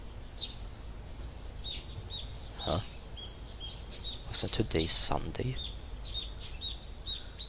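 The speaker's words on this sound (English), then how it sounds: "the chirping of birds served as my alarm clock." Morning birdsong in the visual novel game Higurashi When They Cry Hou: short, high chirps repeat at a steady, gentle pace in the background. A voice speaks briefly over them.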